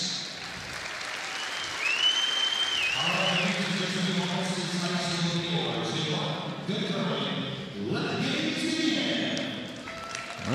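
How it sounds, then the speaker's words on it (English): A crowd applauds Team China at the 2014 World Women's Curling Championship, a sustained wash of clapping that runs the whole time while a commentator talks over it. "waving to the crowd and everyone applauding them"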